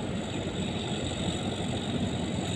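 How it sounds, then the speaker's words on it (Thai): A six-cylinder turbo engine on a soil-tilling tractor runs at a steady, even rumble, continuous and moderately loud throughout, with no talk over it. "เครื่องยนต์6สูบนะครับเทอร์โบ"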